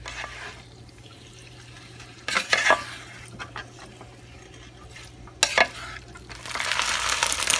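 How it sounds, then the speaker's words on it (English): Noodles frying in a little oil in a pan for Thai ladna, with steady low sizzling, a few louder stirring scrapes near the middle, and a brighter hiss building toward the end. "now I'm adding the noodles. I'm gonna fry these up for a little bit."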